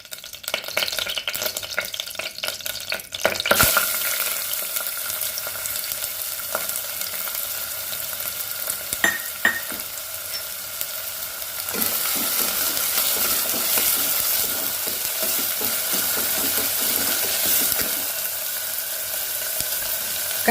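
Bay leaf and spices sizzle in a spoonful or two of ghee inside a pressure cooker, a steady close frying crackle with occasional stirring scrapes and a brief louder burst near the start.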